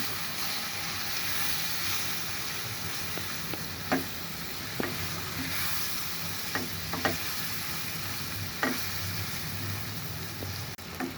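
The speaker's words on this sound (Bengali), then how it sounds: "সাথে দিয়ে দিচ্ছি একটু সয়া সস। এখন আমি এটাকে একটু ভেজে নিচ্ছি।" Minced meat frying with spices and soy sauce in a pan for noodles, a steady moderate sizzle broken by several sharp spatula taps and scrapes spread through the sizzle.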